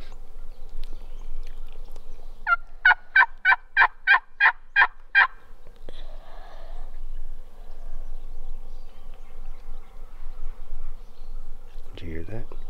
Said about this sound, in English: There's a hen yelping right behind us.